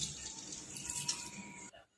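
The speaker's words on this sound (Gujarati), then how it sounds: "હવે આપણે આને વોશ કરી લઈશું ત્યાં આગળ આપણે બે ત્રણ પાણીએ વોશ કરી લેવાના છે" Rice rinsed in running water in a kitchen sink while preparing dhokla batter, a steady, close hiss of flowing tap water that cuts off sharply near the end.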